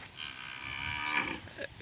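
A mother buffalo moos for her calf with a drawn-out, fairly close lowing call, accompanied by light outdoor background noise.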